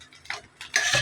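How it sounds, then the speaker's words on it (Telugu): Paneer rice stirred in a pan with a utensil, giving short scraping and clinking strokes, close and moderately loud, with a stronger burst of stirring near the end. "ఇలా మనం తిప్పుకోవాలి"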